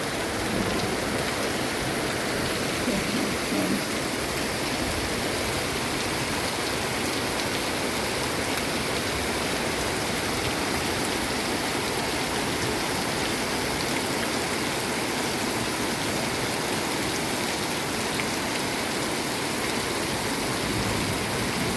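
Heavy rain pours down steadily for the whole stretch, a dense, even hiss of water with no pauses and no voices over it.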